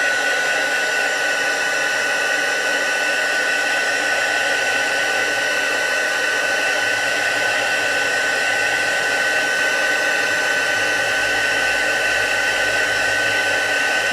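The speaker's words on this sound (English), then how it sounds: "So I'm just going to heat emboss that real quick." A heat embossing tool blows hot air over a handmade Christmas ornament, a steady, loud, broadband whooshing hum that runs unbroken and close up for the whole stretch.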